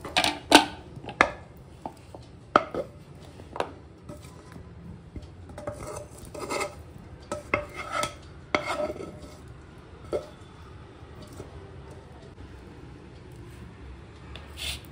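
Metal spatula scraping and tapping as hot cashew brittle is pressed flat on a greased plate, irregular close clicks and scrapes with quiet gaps.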